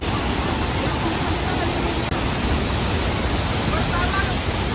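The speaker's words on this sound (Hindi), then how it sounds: "ये कोई दूसरा वाटरफॉल है छोटा वाला" Roaring water of Thoseghar Waterfall, a smaller side fall, with heavy spray: a dense, steady broadband rush close by that fills the whole clip without a break.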